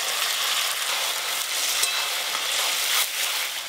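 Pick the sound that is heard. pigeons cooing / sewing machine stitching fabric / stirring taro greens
stirring taro greens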